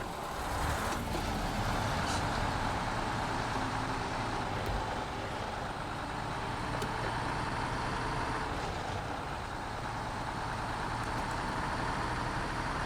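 Russian truck engine droning steadily in SnowRunner on a Michigan map, a continuous low rumble at constant loudness with no speech.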